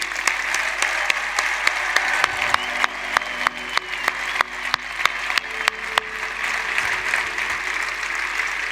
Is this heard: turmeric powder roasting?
no